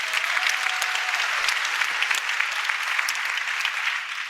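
Sustained applause from a conference audience at an ecosystem-building event, dense and steady throughout with no pauses, fading slightly at the end.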